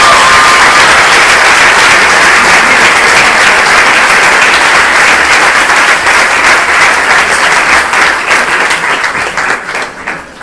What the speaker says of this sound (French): On les applaudisse.